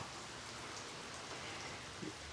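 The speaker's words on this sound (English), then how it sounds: "So now we have rain. It's raining." Faint, steady rain falling on a rainy day in Colorado, a continuous soft hiss with no voices.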